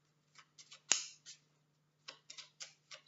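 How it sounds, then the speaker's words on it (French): Tarot cards are drawn and shuffled from a deck in a series of soft, crisp flicks and snaps, with one sharper slap partway through, all close by in an otherwise quiet room. "je vais prendre encore 3 cartes pour voir"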